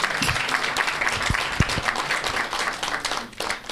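A studio audience applauds loudly for a group leader on a Malian television set, the clapping dense and sustained with a few sharp louder claps standing out.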